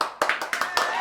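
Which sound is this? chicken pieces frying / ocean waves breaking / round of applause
round of applause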